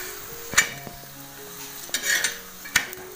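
A paratha roasts on a pan in ghee and oil, giving a faint steady sizzle punctuated by a few sharp scraping clicks of a spatula, with no talking.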